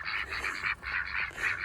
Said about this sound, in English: So now I'm going to take my ducks for a walk.